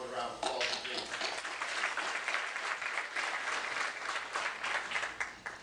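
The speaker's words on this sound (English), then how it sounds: "we want to acknowledge him with a round of applause again" A town hall audience discussing recent events in Ferguson, Missouri gives a round of applause, with dense, steady clapping from many hands throughout that fades slightly at the end.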